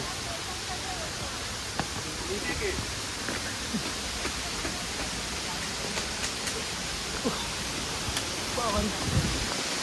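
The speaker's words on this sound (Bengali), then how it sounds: "দারুণ লাগছে ঝর্ণাটা" A steady, broadband rush of a waterfall in Purulia fills the scene, with voices talking faintly underneath and a few brief knocks and rustles.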